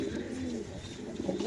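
A female fancy pigeon coos in a low, throaty rolling murmur close by, a brief burst with a voice faintly present.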